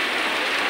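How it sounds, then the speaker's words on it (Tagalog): Heavy rain pours down steadily in a downpour over a Carmen Planas street in Divisoria, Manila, a dense unbroken hiss filling the whole short stretch with no voices. "Bumuhos po yung ulan"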